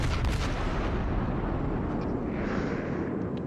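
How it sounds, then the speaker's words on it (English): Naval guns booming in the World of Warships video game, a dense continuous roar of heavy gunfire and rumbling explosions at steady high loudness throughout. "I'm opening fire on the Colorado because he's the most damaged."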